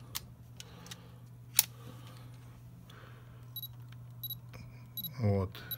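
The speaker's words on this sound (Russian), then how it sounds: "Слышите звуковой сигнал, световой, и делаете снимок." Digital camera focus-confirmation beeps, short high double chirps repeating several times, followed by a brief shutter release click near the end over steady low background hum.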